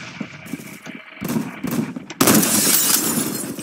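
Sniper rifle shots in the online shooter Phantom Forces, with a loud sharp report near 2.2 seconds and quieter gunfire and impacts before it. Dense game noise continues after the shot.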